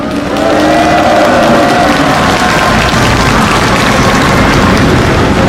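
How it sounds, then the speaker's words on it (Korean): A large crowd applauds at a political gathering, a loud, dense wash of clapping that swells quickly and holds steady throughout. "박 대통령으로 대표되는 우리의 선배 세대들에게 박수를 보냅시다"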